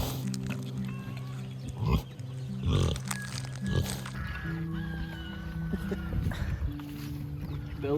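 Pigs eat banana skins noisily, chomping and grunting up close among other farm animals, with steady background noise and occasional human voices.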